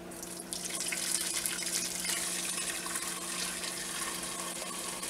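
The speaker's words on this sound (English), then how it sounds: "let's drain it again" Pork broth for canning pours through a strainer in a steady, fairly quiet rush of running liquid that continues without a break and with no talking.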